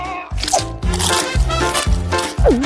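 Hard cold pizza is bitten and chewed with loud, close crunches in a quick uneven rhythm, several crunchy bites in a row, with a brief vocal squeal near the end.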